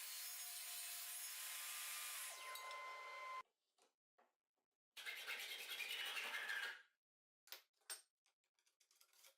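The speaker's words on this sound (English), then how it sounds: "I'm going to cut another section of the profile" A saw bites through an aluminum profile in one steady, harsh cut lasting a few seconds. It stops abruptly, then comes a string of shorter, choppy cutting bursts separated by silence.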